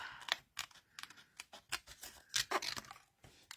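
Scissors snip a stamped paper leaf out for a handmade card, a string of short, dry, close cuts in an uneven rhythm, quiet and without talk.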